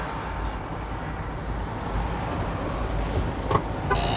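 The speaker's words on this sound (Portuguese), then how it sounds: "eu vou ter que esperar esse carro passar" A car passing on a street in Boa Vista, Brazil, heard from a waiting VW 8-150 Delivery truck: a steady low engine rumble swelling slightly near the end, with a faint short toot.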